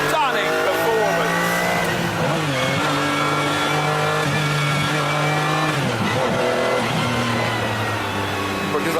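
A McLaren supercar revs hard on the road. Engine notes climb and drop sharply through gear changes, loud and close, as if heard from inside the cabin.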